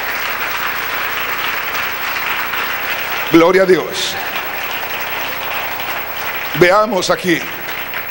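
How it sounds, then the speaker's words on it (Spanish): Church congregation applauding during a Spanish-language sermon, a steady broad wash of clapping throughout, with a voice speaking over it twice. "Dele un aplauso al Señor."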